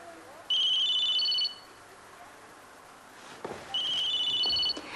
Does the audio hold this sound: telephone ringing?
yes